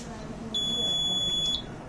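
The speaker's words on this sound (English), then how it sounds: "red LED start blinking and buzzer start on" An Arduino face mask detector's buzzer sounds a single steady high-pitched tone lasting about one second, close and loud over a quiet room.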